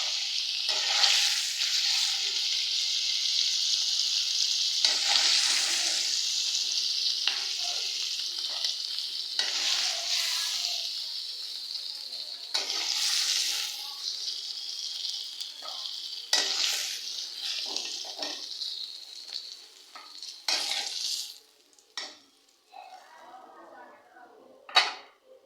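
Hilsa fish fry in hot oil with a loud, steady sizzle that crackles on and off as pieces are lifted out one by one, with clinks of a utensil and a voice talking over it.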